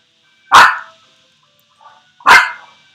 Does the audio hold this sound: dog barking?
yes